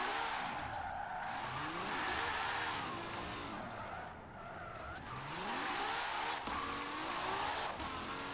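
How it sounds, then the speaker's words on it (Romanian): A Ferrari's engine and exhaust in Forza Horizon 5 rise and fall through several revving swells, with tire squeal mixed in, loud and continuous throughout. "Îmi place și cum sună motorul și evacuarea, chiar a făcut o treabă bună"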